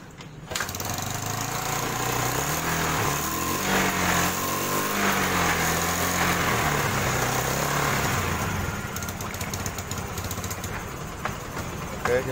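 A Yamaha Xeon scooter engine runs in a repair shop in Palembang, where it keeps running even after the coil is disconnected. It makes a steady, close mechanical drone that swells slightly in revs midway, then settles back to a continuous idle.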